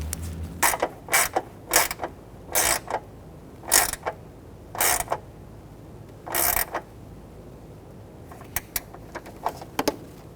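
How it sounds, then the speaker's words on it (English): Ratchet wrench tightening the third and last headlight mounting bolt on a 2006-2010 Hummer H3, heard as bursts of close, crisp ratcheting clicks with short pauses between them, then a run of quicker single clicks near the end. "Let's go ahead and tighten down the third and last one."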